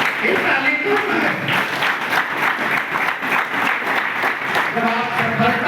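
Sustained crowd clapping rolls on throughout, loud and close, with many hands beating in a busy, even texture and a faint voice or two mixed in.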